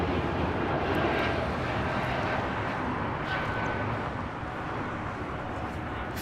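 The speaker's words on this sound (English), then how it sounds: "that next arrival is 21-year-old A320." A 21-year-old Airbus A320 airliner arriving at LAX produces a steady jet engine roar that fades slightly toward the end, moderately distant and without talk.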